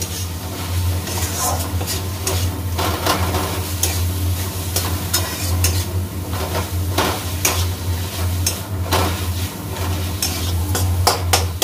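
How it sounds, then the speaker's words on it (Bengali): Spices for Bengali ghugni sauté in a pan with a steady loud sizzle, while a spoon stirs and scrapes against the pan in frequent close clicks, over a low steady hum. "ব্যাস এই কটা মশলা দিয়ে এবার আমি মশলাটাকে ভালো করে কষে নেব।"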